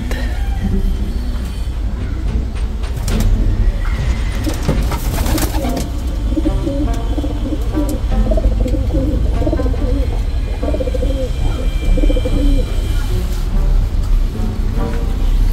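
Pigeons coo in repeated soft, rhythmic bursts close by on a farm, several birds layered over a steady low rumble of background noise.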